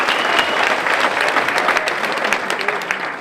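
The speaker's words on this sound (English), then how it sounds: "Give her another round of applause" Steady, loud applause from a crowd, continuous clapping throughout with no pauses.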